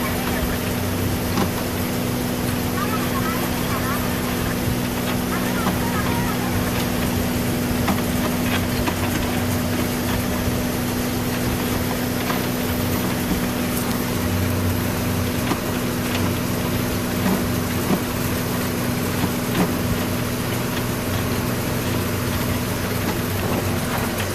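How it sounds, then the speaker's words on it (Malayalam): A fishing boat's engine drones steadily at close range as the boat circles at sea while netting small fish, a constant low hum with wind and water noise and no clear voices. "അങ്ങനെ വള്ളം കറങ്ങി ഒരുവിധം അടുത്തെത്താറായിട്ടുണ്ട്"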